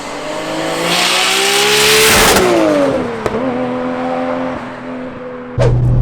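A 910 bhp big-turbo Nissan Skyline R34 accelerates hard from inside the car, its engine roaring up through the revs with abrupt gear changes and a loud, rising pull.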